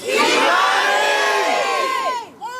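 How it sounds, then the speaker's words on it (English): A crowd at an abandoned house at Miami and Wilmot shouting the name Kei'mani, one loud drawn-out massed cry of many voices, close and sustained before fading at the end. "A crowd gathered at the abandoned house on Miami and Wilmot, chanting the name of a girl who will never be forgotten."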